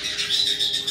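Pet birds chirp in a home aviary, bright high twittering that comes in repeated short bursts at close range over a steady background hum, with no talking.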